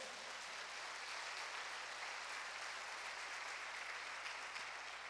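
Steady, faint applause from a church congregation, a continuous wash of clapping that holds at an even level throughout with no voices on top.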